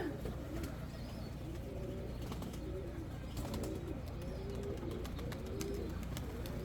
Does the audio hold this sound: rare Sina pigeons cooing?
yes